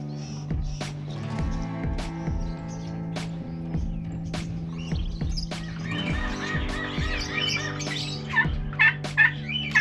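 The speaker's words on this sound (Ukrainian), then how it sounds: "І от такі у нас птахи тут живуть." Farm birds on an eco-farm in Peru call in repeated bursts, gobbling and squawking at close range, with lighter chirps scattered among them.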